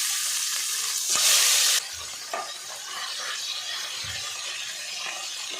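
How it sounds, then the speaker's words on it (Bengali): Tengra fish lightly frying in hot oil, a close, bright hissing sizzle that flares loudly as the fish hits the pan, then settles into a steady fry with a couple of soft knocks. "লবণ দিয়ে আমি মাছটাকে হালকা ভেজে তুলে নিচ্ছি।"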